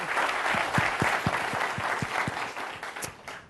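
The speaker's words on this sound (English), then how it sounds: "Big round of applause for DemoLesson." An audience gives a round of applause at a teaching demo event: dense, steady clapping from many hands throughout, fairly close and loud, with no talking over it.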